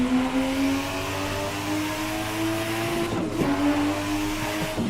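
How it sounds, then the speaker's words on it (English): A BMW car engine revving aggressively, a loud close growl that holds steady and then climbs in pitch with a sharp rise near the end, heard alone without talk. "That's an angry BMW, man."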